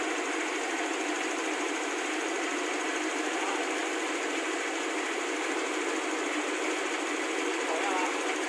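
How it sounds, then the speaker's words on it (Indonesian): Toyota Kijang Kapsul LGX 2.0 EFI, a 2002 manual, idling smoothly with the air conditioning on, a steady even hum with faint mechanical ticking and no change in pace. "coba nyalain mesinnya"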